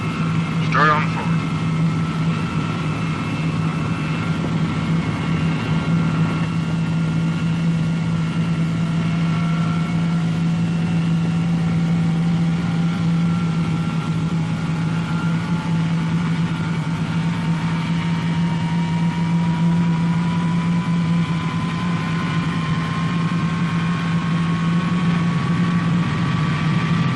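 Jet engines on a Boeing B-47 Stratojet bomber start up with a steady low roar and a slowly rising whine as they spool, loud and continuous while someone narrates over it.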